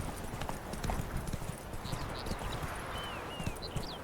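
Roach, Geralt's horse in The Witcher 3 game, clip-clops steadily along a path, hooves thudding in a continuous walking rhythm over a bed of outdoor ambience with a few faint bird chirps.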